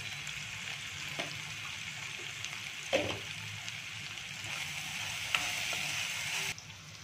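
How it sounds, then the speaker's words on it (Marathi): Masala sizzles steadily in a pan while being sautéed for a shevla wild vegetable dish, a continuous close frying hiss with a few soft stirring clinks and no voices. "चांगला 1-2 मिनिटं परतून घ्यायचा मसाला।"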